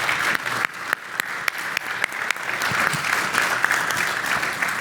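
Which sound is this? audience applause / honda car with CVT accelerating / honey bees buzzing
audience applause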